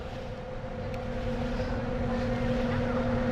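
Pro drag class racing boats on the water at a drag boat race, heard as a steady, loud engine drone with a sustained low hum and wind noise, continuous and without speech.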